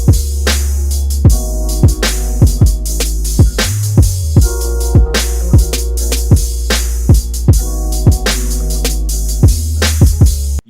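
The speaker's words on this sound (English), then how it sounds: "we created a 808 bass, and I tweaked it a little bit after he did his thing to it" Distorted, EQ'd 808 bass line built in FL Studio for a hip hop ballad beat, with effects added. A steady low bass runs under a full beat with regular sharp percussive hits and sustained tonal layers, loud and continuous throughout.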